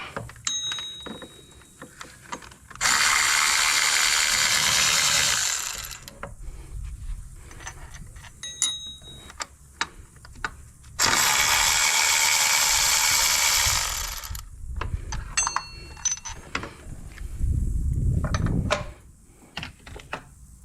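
A ratchet wrench works 15mm bolts off the belt tensioner of a 2005 Buick Park Avenue, with scattered close mechanical clicks and two long, loud bursts of harsh, noisy whirring.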